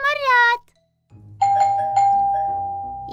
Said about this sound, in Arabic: في المرة الثالثة سوف يدق 3 مرات